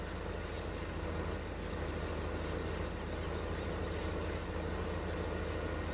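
A tractor pulling a pickup wagon in Farming Simulator 15 runs at a steady, loud, low idle-like drone throughout, with no talking over it.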